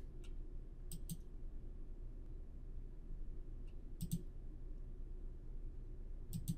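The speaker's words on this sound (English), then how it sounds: "right-click your mouse" Pairs of crisp computer mouse clicks sound three times against a quiet, low background hum. The clicks are close and faint, separated by pauses of a few seconds.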